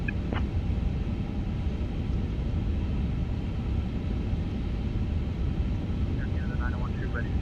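Steady low engine rumble of an Air Canada A350 during pushback and engine start in Microsoft Flight Simulator, a continuous drone throughout with faint radio chirps over it.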